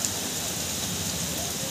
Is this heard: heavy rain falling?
yes